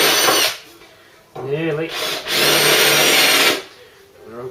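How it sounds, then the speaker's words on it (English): A power drill bores off rivet or bolt heads on a car mounting plate during a Mk3 Ford Cortina restoration, with loud bursts of harsh, gritty whirring that stop and restart, and someone speaks briefly in a gap. "I just go a drill bit down and finish off"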